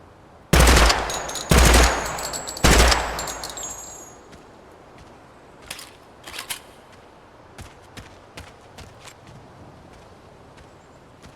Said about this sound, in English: you can definitely control the burst on this gun a lot better than, like, the full auto guns.